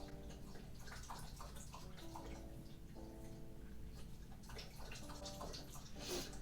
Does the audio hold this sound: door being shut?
no